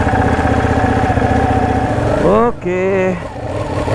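A Ducati Panigale 899 motorcycle engine runs loud and close at a steady idle, then a quick throttle blip sends the revs climbing before they drop back; a voice briefly speaks.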